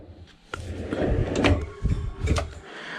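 A Rev-A-Shelf drawer slides in and out a few times, producing soft rolling rumbles and light knocking clunks at each stop, close and fairly quiet.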